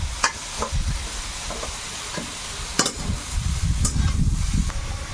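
Pumpkin greens stir-fried with prawns in a pan, making a close, loud sizzle with repeated spatula scrapes and sharp clanks against the metal, growing denser toward the end.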